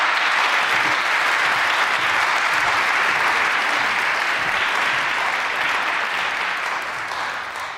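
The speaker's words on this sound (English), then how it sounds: "So please join me in welcoming with a hearty applause our speaker, Beth." Sustained audience applause at a homeless memorial service, dense and steady clapping throughout, tapering slightly toward the end.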